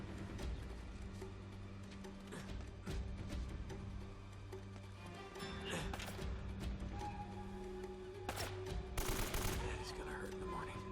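Gunfire in the video game Uncharted: Drake's Fortune, a run of sharp shots and bursts over a steady game background, with a few louder cracks near the end and a voice talking at times.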